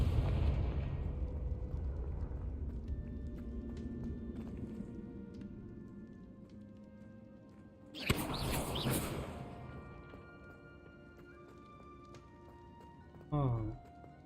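A Confringo blasting spell goes off in a Hogwarts video game as a sharp burst with a short rumbling tail, set against a steady low game soundscape, with a smaller thud a few seconds later.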